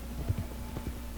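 Hooves clip-clop in a short, uneven series of soft thuds, fairly close, over a low steady background hum, from the video game Red Dead Redemption 2 Online.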